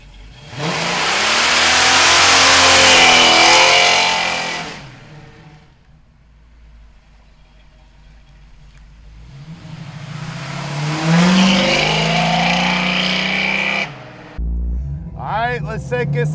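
A 1972 Chevrolet Camaro engine revs loudly, then drops to a low idle and revs again while the car pulls away, ending with a short burst of voices.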